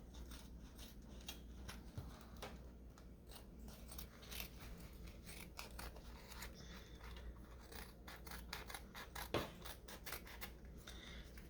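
Scissors snip through wax paper holding melted crayon wax, a close run of crisp, irregular cuts and rustles that continues steadily without any talking.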